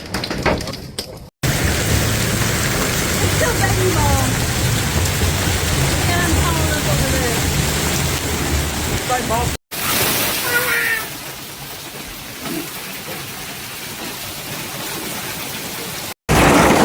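Ping-pong ball-sized hail pounds homes and cars in Fort Smith, Arkansas, a dense, loud clatter and hiss of ice striking surfaces, broken by brief cuts, with a voice crying out partway through.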